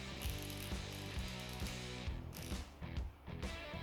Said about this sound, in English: Gedore has 72 teeth counts and listen to that.